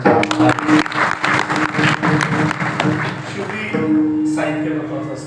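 An audience claps in appreciation of the sound system operator at a kirtan gathering, a dense burst of applause lasting several seconds before tapering off, with voices mixed in.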